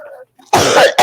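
A close, loud cough straight into a microphone, a harsh broadband burst followed by a second short cough, after a brief moment of quieter voice.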